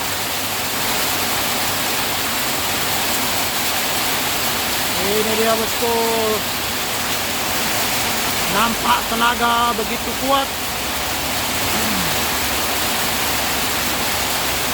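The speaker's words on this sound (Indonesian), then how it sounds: "Saat ini hujan deras." Heavy rain pours in a dense, steady hiss on a mountain road while a diesel truck climbs nearby, with someone talking over the downpour in short bursts.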